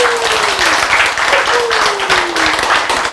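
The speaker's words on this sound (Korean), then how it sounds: "박수!" Audience applause during a lecture, a steady burst of clapping from a roomful of people, loud and continuous with a voice calling out briefly over it.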